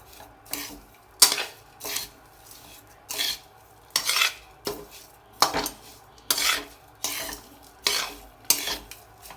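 Panjiri, a sweet Indian mix, being mashed and stirred in a bowl, a series of about a dozen rhythmic scraping strokes with light clinks of utensil on bowl, close and clear with no talking.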